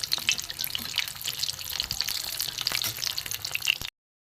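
Ash gourd chops fry in hot oil with a dense, crackling sizzle that bubbles steadily for about four seconds before cutting off, no voice present.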